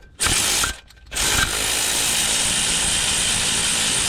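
A power tool whirs loudly on bolts of the crankshaft position sensor cover beneath the CV axle of a 2008-2012 Honda Accord, in two bursts with a brief pause, then running steadily.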